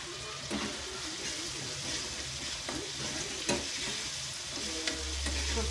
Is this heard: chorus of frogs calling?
no